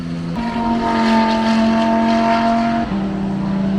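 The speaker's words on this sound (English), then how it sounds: "Sounds amazing, right? That's one of my favorite engines, that V10." A V10 race car engine screams at Spa-Francorchamps, a loud, close, high-pitched sustained wail holding one tone, then dropping pitch sharply near the end as it shifts or lifts.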